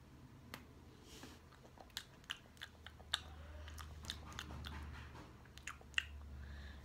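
Someone bites into a breadstick and chews it, with scattered crisp crunches and snaps close to the mouth over a low, quiet background.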